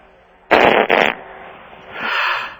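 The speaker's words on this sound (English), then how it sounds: "You gonna fart?" A wet-sounding fart over a talk-radio phone line, with two loud, sputtering bursts in quick succession trailing into a softer, lingering rasp.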